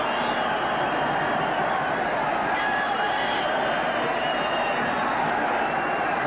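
Football crowd at a 1980s Newport County match cheering as Newport take the lead, a dense, sustained roar of many voices filling the ground at steady loudness throughout.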